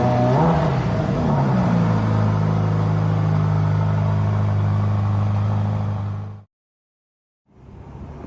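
A Maybach's engine revs up from a low rumble to a rising whir, holds a steady drone, then cuts off abruptly, with quiet road noise returning afterward.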